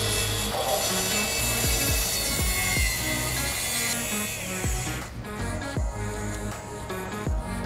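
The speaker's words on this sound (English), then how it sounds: "I took everything over to my miter saw, set everything to a 13-degree angle, and go ahead and cut everything on that line that we just scribed" Miter saw slicing wooden fence pickets at a 13-degree angle, a loud continuous whine of the spinning blade with repeated cutting passes and a shift in pitch midway, no talk.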